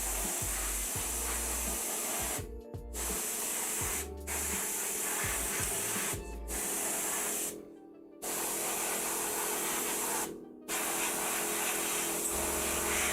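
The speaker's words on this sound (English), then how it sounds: "I'm spraying it black so that I can go silver again." Loud, close hissing from a spray paint can as black paint goes onto a plastic Imperial Knight model, in long sustained bursts broken by a few short pauses between passes.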